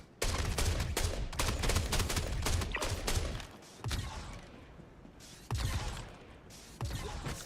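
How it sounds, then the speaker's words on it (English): Enemy gunfire in Star Citizen, a rapid barrage of overlapping shots in dense bursts with brief lulls between volleys, loud and close throughout. "Oh, we're getting shot at."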